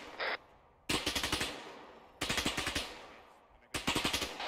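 Gunfire in a tactical video game: rapid automatic bursts, loud and close, in three separate strings with short pauses between them.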